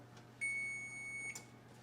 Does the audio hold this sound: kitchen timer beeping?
yes